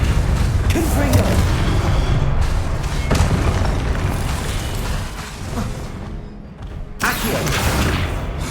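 Confringo fire-spell blasts in the Hogwarts Legacy video game land as deep, loud booms over a busy combat soundscape, with spoken voices mixed in.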